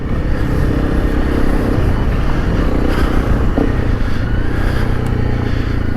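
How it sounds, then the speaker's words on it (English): Honda CRF300 motorcycle engine revving steadily as the bike slides sideways around a dirt corner, a loud, continuous close-up roar with wind buffeting throughout. "if I just sit on the bike and I go around this corner, see, I've got to control the bike then because it's starting to spin sideways."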